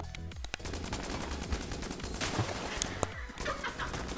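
Rapid gunfire from an unidentified weapon in the video game Enter the Gungeon, a dense stream of sharp shots and impacts layered over busy game effects and music, fairly loud and continuous.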